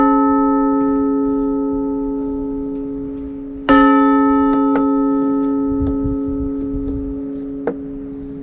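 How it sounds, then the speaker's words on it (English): An old painted bell rings out in a strong struck tone at a historic village site, its sustained harmonic hum decaying slowly, then re-struck once loudly partway through, with a few lighter taps after; no talking. "This bell. It's been painted, but it's old."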